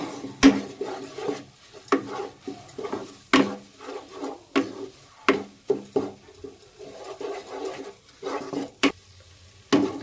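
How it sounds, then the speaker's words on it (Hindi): Spoon stirring gram flour (besan) with spices in a pan on a low flame, with repeated sharp metallic scrapes and taps at an uneven rhythm and a soft, faint frying hiss between them. "मसालों को भी बेसन के साथ बहुत अच्छे से भूनना है।"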